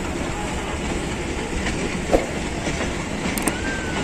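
The Hazara Express passenger train at Rawalpindi railway station rumbles steadily with rhythmic wheel clatter and a brief metallic squeal, heard close and alone without voices.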